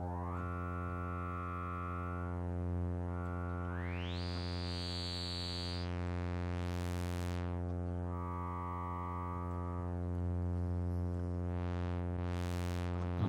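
A synthesizer drone through a Schlappi Engineering 100 Grit vintage-style filter module, strong steady harmonics, its tone swept open and closed by the resonant filter, producing rising and falling bright whistling peaks.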